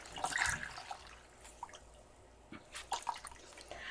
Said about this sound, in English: I am squeezing out most of the liquid.